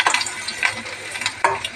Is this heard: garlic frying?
yes